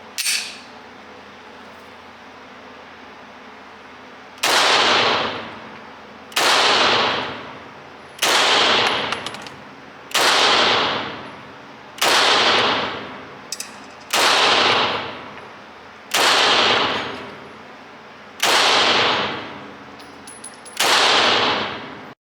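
Beretta 92FS pistol firing at a range: nine sharp, loud single shots spaced roughly two seconds apart, each with a short reverberant tail, after a quiet pause at the start.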